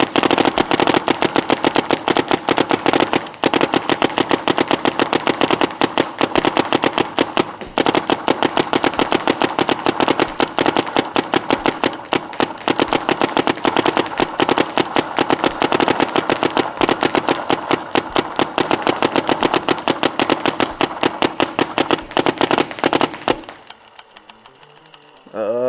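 A Planet Eclipse G-Tech paintball marker fed by a Torque loader fires a long, rapid stream of close, loud shots, a machine-gun-like rattle that runs continuously before stopping near the end.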